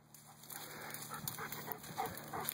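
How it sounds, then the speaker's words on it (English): Dog panting close by, quick soft rhythmic breaths with small snuffles, faint and alone against a quiet outdoor background. "it's my dumbass dog."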